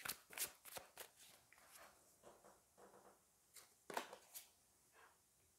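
Tarot cards are shuffled in a run of quick, papery riffling bursts, quiet and close, with short pauses between the riffles and no talking.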